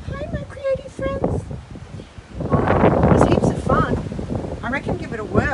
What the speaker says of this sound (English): It's so windy here today.